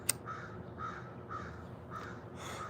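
A crow caws repeatedly in a backyard, about five evenly spaced caws at a moderate distance over a steady quiet outdoor background, with no talking.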